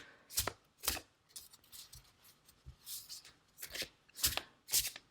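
Tarot cards being shuffled and drawn, with sharp riffling bursts and soft sliding and tapping in between, close by and irregular.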